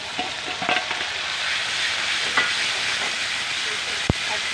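Tomato puree sautéing in a pan while cooking batua saag paneer, a steady close frying sizzle throughout with occasional light clinks of a spoon stirring.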